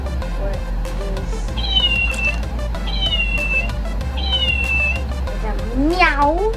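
A sleeping cat simulation toy from Kleeable gives three evenly spaced, high, drawn-out electronic meows, then a rising, wavering cry near the end, over a steady low hum.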